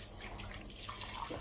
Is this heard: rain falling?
no